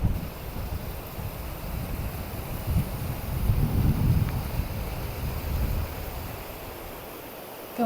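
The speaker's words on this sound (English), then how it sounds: "Oh, wind's picking up again." Steady wind buffets the microphone on an exposed fell-side hike in the Langdale Pikes, a continuous low roar that swells slightly midway and holds throughout.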